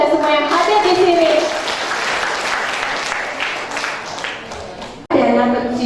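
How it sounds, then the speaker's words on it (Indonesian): An audience at an indoor gathering claps in a loud, steady burst that stops abruptly near the end. Speech sits over the start and returns after the applause ends. "Tepuk tangan buat Anda semua yang hadir di sini."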